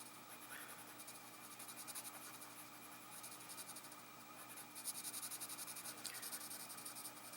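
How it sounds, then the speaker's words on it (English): A pencil scribbles steadily on paper, quick scratchy strokes close and faint, continuing in bursts with brief pauses, while drawing a cardinal. "And just scribble it in with the pencil."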